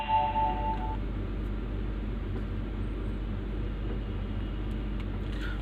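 A BMW 3 Series engine idles just after starting, a steady low rumble with a faint whine in the first second, close and unbroken with no voices.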